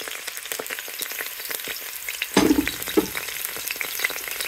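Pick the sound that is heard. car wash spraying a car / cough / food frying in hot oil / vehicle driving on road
food frying in hot oil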